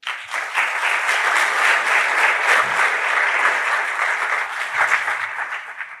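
Sustained, dense applause from a conference audience welcoming a speaker to a memorial lecture at a national interpreters' and translators' conference, loud and steady throughout with no talk over it.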